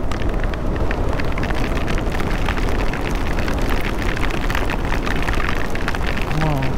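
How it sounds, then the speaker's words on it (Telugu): Heavy rain pours down during a motorbike ride, a loud, dense and unbroken roar of rain and wind that fills the whole clip close up. "చూడండి ఎంత బీభత్సమైన వర్షం ఉంది."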